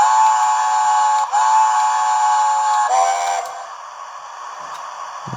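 Hornby TTS sound-equipped model of the Mallard steam locomotive giving long steady whistle blasts, briefly broken twice, then fading into a quieter hiss and soft chuffing.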